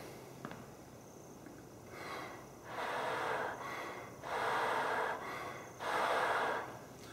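Three slow, deep breaths taken in belly-dancing style, each a soft whooshing rush of air lasting about a second, close and quiet with short pauses between them.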